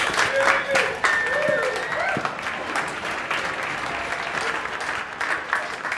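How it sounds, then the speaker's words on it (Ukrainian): A live audience applauds as a stand-up comedian is welcomed to the stage for his first solo show, with thick, sustained clapping and a voice calling out over it near the start. "Ваші оплески."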